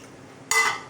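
Water added to a tomato curry before pressure cooking, a short, loud splash that starts abruptly midway and lasts about a quarter second after a quiet lead-in.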